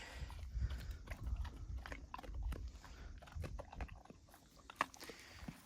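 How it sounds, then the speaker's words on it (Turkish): Farm animals, dogs among them, chew and bite at feed in hot weather, a close, continuous crunch of teeth grinding and snapping with irregular sharp crackles over the whole stretch. "Diş seslerini duyuyorsunuz değil mi arkadaşlar?"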